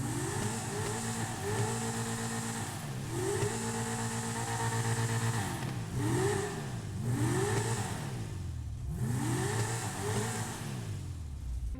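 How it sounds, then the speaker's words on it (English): A Dinka Jester sports car in GTA Online revs its engine and exhaust repeatedly, loud rising-and-falling blips in a steady rhythm, held close with no talking. "I'm gonna go ahead and say that the exhaust sound on this car is a 4 out of 10"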